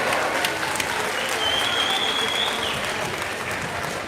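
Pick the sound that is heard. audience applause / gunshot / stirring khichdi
audience applause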